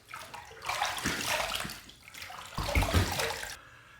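Running water from a tap rinsing a face and razor after a wet shave, a steady splashing flow that swells and fades in bursts, with no talking.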